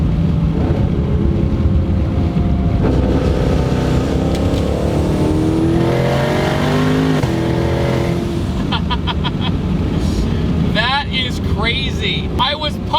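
A 1200 hp twin-turbo Shelby GT500 roars loudly and steadily under acceleration, its engine note sweeping upward, with talking over it and a few sharp clicks near the end.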